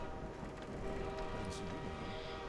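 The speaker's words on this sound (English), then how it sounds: "Yeah, that's a train." A train in the Half-Life 2 video game rumbling along with a steady low drone and rattling, quiet and continuous, with a faint sustained tone on top.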